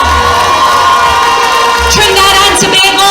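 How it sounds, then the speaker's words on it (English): A large crowd at an outdoor political party rally on Harris Promenade in San Fernando, Trinidad, cheers and shouts loudly and continuously for the mayor, with whoops rising near the end. "Let's give our mayor a round of applause."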